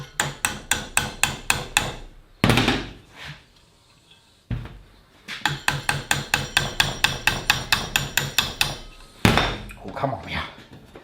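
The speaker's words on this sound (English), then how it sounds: "I'm going to tap it with the hammer." Rapid, evenly spaced metallic taps from a small hammer on a metal jaw harp, in two long runs broken by a few heavier knocks and a short pause.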